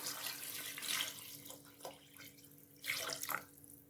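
Water runs and splashes into a cooking pot for biryani in a few uneven bursts, close by, with a quiet pause between pours and no talking.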